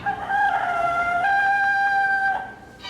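A rooster crows once in a long, drawn-out call, loud and close, holding its note for a couple of seconds before trailing off.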